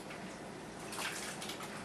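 Water splashes and swishes as a hand adds water and stirs a mixture, a steady close, wet churning sound with no talk.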